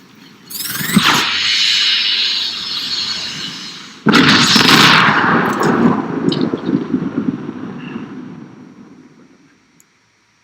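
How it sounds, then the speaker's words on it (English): Booming explosions and gunfire from The Machines, an augmented-reality game on iPhone, come in two loud blasts, each trailing off into a rumbling decay, with no talking. "Now let's rain fire on our enemies, move closer to their base, and get ready for the fatal blow with our super weapon."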